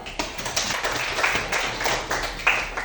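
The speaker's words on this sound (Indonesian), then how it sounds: "tepuk tangan dulu" A class of junior high school students clapping in a classroom, a short burst of scattered, uneven hand claps lasting under three seconds.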